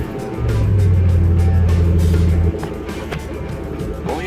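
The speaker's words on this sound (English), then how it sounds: "Test the brakes with the engine running." A Ford F-150 pickup engine running during a brake test after a seized caliper was replaced, a loud steady low drone that drops partway through, then continues with lighter mechanical noise.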